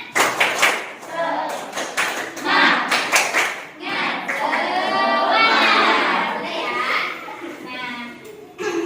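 A group of children clap together in a rhythmic pattern, mixed with their lively voices and chanting in a busy room.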